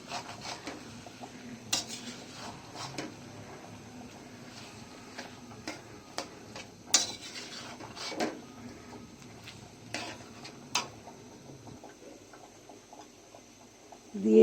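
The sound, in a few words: spoon mixing olive chutney with red chilli powder in pan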